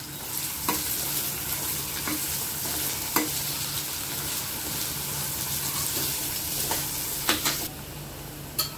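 Onion and chili frying in a pan for a prawn and fenugreek leaf dish, steady loud sizzle broken by sharp scraping clicks of stirring at irregular intervals, close and without talk.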